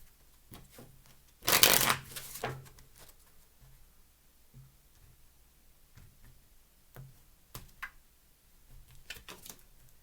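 Tarot cards being shuffled, with one loud riffling burst near the start, then lighter scattered flicks and taps of the deck.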